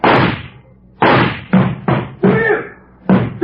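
Heavy knocking on a door in an old-time radio drama, five or six loud, booming thuds in uneven clusters, close and resonant with short decays and no voices.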